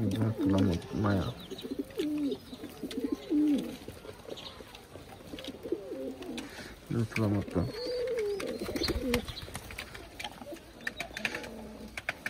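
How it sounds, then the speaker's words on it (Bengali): High-flying pigeons of an old breed cooing while feeding their chicks, repeated low throaty coos close by, with someone talking over and between them. "বাচ্চা খাওয়াচ্ছে কবুতরে"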